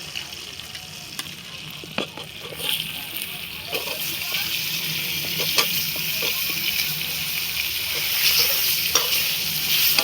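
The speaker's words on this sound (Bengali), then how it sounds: "দিয়ে আমি বেগুনটা একটু হালকা ভেজে নেব।" Eggplant pieces fry lightly in a little oil in a pan. A steady close sizzle runs throughout, broken by stirring scrapes and small splattering pops.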